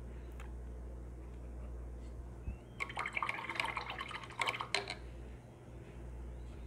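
A paintbrush is rinsed in a small container of water, giving a short burst of soft sloshing, tapping and dripping against the cup amid quiet room hum; nobody speaks.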